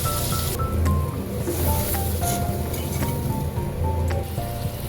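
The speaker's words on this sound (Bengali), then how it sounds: "সামান্য জল দিয়ে মশলাটা কষিয়ে নিচ্ছি।" A spice paste of ground onion and tomato cooking in a pan with a little water, a steady wet bubbling and squelching sizzle, close and continuous, with faint clinks from utensils.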